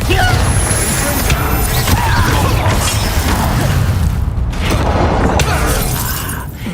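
A Bombarda blasting spell explodes in the video game Hogwarts Legacy, a loud shattering crash and boom with debris crumbling over a dense, sustained roar of combat noise, with voices partly mixed in.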